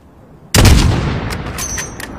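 A single rifle shot fired at a target 600 meters away in the Call of Duty video game, a sharp loud crack followed by a long rolling echo and faint scattered clinks as it fades.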